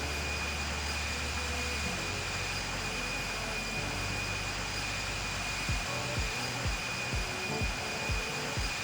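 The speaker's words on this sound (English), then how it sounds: "Currently an A350 doing a sunset landing in Norway" An Airbus A350 jet lands at sunset in Norway in the Infinite Flight game, producing a steady loud engine roar with a high whine and no voices.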